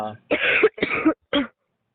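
A person with a lingering cough and cold coughs in two quick harsh bursts followed by a shorter third, close and loud against silence.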